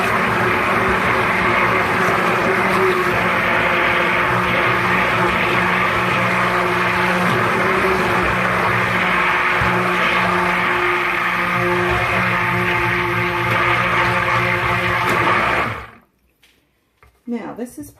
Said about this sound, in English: So now we're just going to use the stick blender